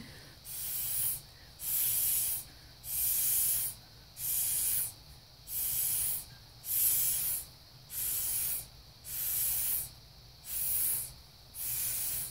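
Eleven short bursts of airy hissing as paint is blown through a straw for acrylic pouring, about one per second, each blast separated by brief quiet gaps, close and steady.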